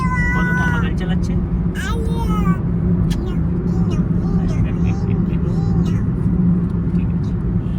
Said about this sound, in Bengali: মামা গাড়ি চালাচ্ছে